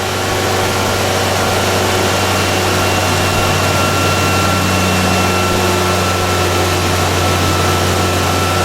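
A four-stroke petrol engine on a test bench runs steadily near 2800 RPM, giving a loud, close, constant hum with a strong low drone and no pauses or voices.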